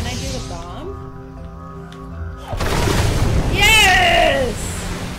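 A bomb exploding in the video game Ori and the Blind Forest, a sudden loud burst midway that gives way to a roaring rumble, with bright whooshing game effects sweeping over it and a voice talking before it.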